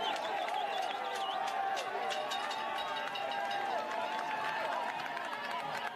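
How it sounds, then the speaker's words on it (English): Belgian cycling fans cheer and chant for Tadej Pogačar at a road race, a steady roar of crowd voices with whistles and shouts, loud and continuous with commentary over it. "Yeah, you can also see the Belgian fans cheering as well."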